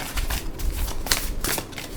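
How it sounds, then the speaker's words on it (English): Tarot cards are shuffled by hand in a steady, close riffle of papery flicks and rustles, continuous throughout with no talk. "I always like to back shuffle my cards"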